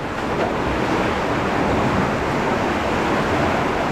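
Loud, continuous rushing of a strong water current along rocks, a dense steady roar with no breaks, close to the microphone.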